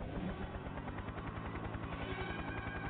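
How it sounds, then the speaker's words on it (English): A helicopter in the PS1 video game Return Fire gives a steady, dense rotor thrum with rapid rhythmic pulsing, loud and continuous throughout, mixed with low rumbling game sounds. "I'm going to send the chopper one last time."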